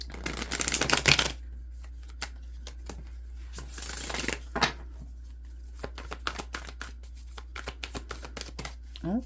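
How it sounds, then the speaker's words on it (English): A tarot deck being shuffled by hand, with a loud riffling burst at the start and another midway, then scattered soft card taps and slides, close and clear with no talking. "bear with me while I do the shuffle and tune in"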